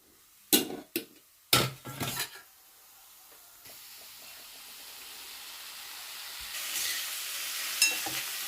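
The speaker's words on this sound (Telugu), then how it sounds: "ఇప్పుడు కొద్దిగా ఆయిల్ వేసి ఇవ్వండి ఈ తొక్కలు వేసేస్తాను" Ridge gourd peels dropped into hot oil in a pan, with a few sharp clatters and stirring bumps at first, then a steady sizzle of frying that slowly grows louder and hisses brighter near the end.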